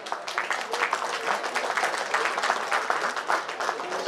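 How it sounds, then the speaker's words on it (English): An audience applauds and cheers for colleagues as office staff such as chief office superintendents are named at a recognition ceremony: a few seconds of brisk, continuous clapping from a sizeable crowd, close and fairly loud. "Kindly cheer for your colleagues."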